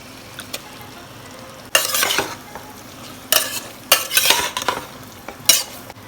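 Curd is added to frying vegetable biryani and stirred, producing loud bursts of sizzling and scraping with a spoon knocking against the pan, separated by quieter gaps.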